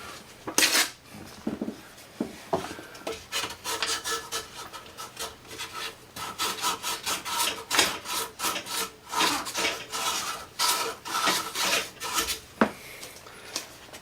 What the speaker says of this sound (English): Let's not be cheap with the sandpaper here.